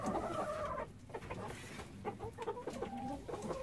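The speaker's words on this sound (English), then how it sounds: "These two roosters are the twins." A pair of gentle twin roosters cluck close by in a series of short, uneven calls.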